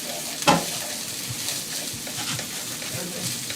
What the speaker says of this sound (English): This way you get a fairly good sear on the ginger without burning it.